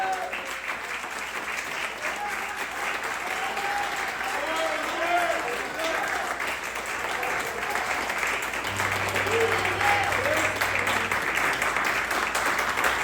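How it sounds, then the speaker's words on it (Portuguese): A church congregation applauds, steady dense clapping from many people filling the room for the whole stretch, with voices and some low musical tones underneath. "Dê uma salva de palmas a Jesus."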